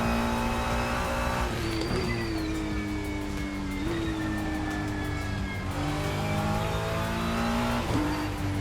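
Race car engine in a racing video game on the Nordschleife, revving hard and steadily with rising and falling pitch through gear shifts, loud and continuous with no talk.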